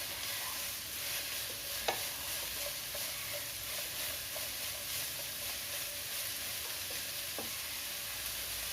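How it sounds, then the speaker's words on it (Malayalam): Onions and green chillies sauté in oil on high flame, a dense, even sizzle running steadily with a few sharp spoon taps against the pan, no speech. "നമുക്ക് ഹൈ ഫ്ലെയിമിലിടാം. നന്നായിട്ടൊന്ന് വഴറ്റിയെടുക്കണം നമുക്കിത് സവാളയൊക്കെ"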